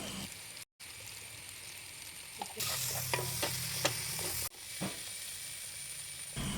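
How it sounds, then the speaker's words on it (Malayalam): Turmeric, chili, garam masala and pepper powders sauté in a hot pan for a chicken roll filling, a steady sizzle that swells louder midway with scraping stirs and clinks, then settles back to a softer fry. "കുരുമുളക് പൊടിയും ഇട്ട് നന്നായിട്ടൊന്ന് വഴറ്റിയെടുക്കുക"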